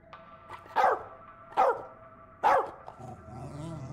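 A dog barks three times in a row in the video game As Dusk Falls, sharp and fairly close, with short pauses between barks over a faint background hum.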